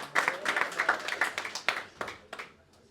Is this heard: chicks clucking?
no